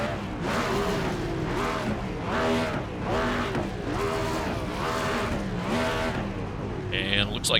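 In the iRacing game, a pack of NASCAR race cars rolls behind the pace car, engines droning steadily in repeating surges, while commentators talk over them.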